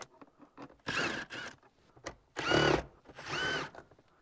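Power tool, likely a drill or impact driver, running in three short bursts to back out 10mm bolts holding the rubber boot over a Toyota Tacoma transfer case, each whir close and loud, with faint clicks and ratcheting between the bursts.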